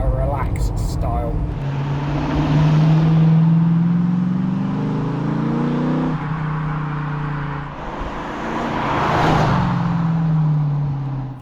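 A TVR Chimaera V8 sports car accelerates steadily to around 60 mph, the engine note rising through the gears with a brief lift between shifts, heard from inside the car with a person talking over it.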